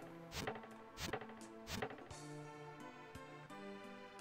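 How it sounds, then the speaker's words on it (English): Chopping sound effects from the Final Fantasy Mystic Quest video game as a character cuts through mushrooms: three sharp rhythmic thwacks followed by a tinkling, stepped melodic game tune, quiet overall. "Chopping through mushrooms."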